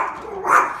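A Yorkshire terrier lets out one short, sharp bark at dogs on a television, close and loud, rising briefly and fading within a second.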